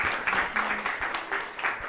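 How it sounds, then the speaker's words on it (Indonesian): A live show audience gives a short burst of applause, with clustered claps rising and falling at moderate volume in a room. "Tepuk tangan untuk mereka semua."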